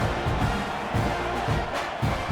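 A stadium crowd in the EA College Football 26 video game, at a Mississippi State at Texas A&M simulation, holds a steady, subdued roar with a low rhythmic swell every half second or so.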